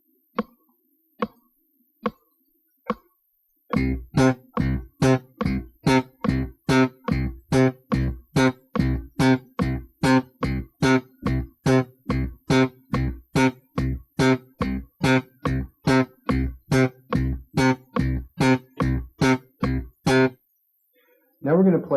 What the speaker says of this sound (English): you want to lift your fingers to deaden the note right away to give you a very short staccato sound